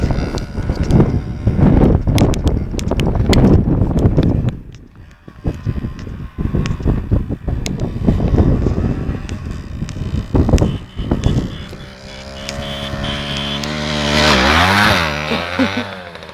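A motocross bike ridden on its rear wheel in a wheelie roars loudly and steadily, its engine rising and falling, with wind buffeting the microphone and a rising rev toward the end.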